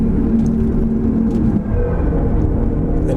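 A Tesla plays its custom Asteroid Scatter drive sound while accelerating, a loud, steady low rumble with a faint whir over road noise.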